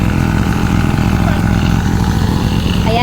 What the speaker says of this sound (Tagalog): in-start na po nila yung makina para makuha po yung tubig sa kabila